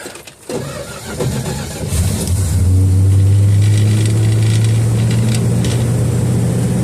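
A 1969 Dodge Dart that has sat six months on old 10% ethanol gas cranks and catches, its engine firing up and running loud and rough with a steady low drone, close by and alone.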